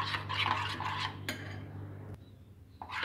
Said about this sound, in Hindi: अभी डाला मैंने इसमें 1 अंडा। अभी हम अंडे को अच्छे से मिक्स करते हैं।